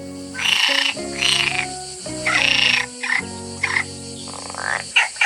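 Cartoonish frog croaking in a children's alphabet song, a series of loud, close, drawn-out croaks in a steady rhythm, five or six calls with short gaps, with no talk over them.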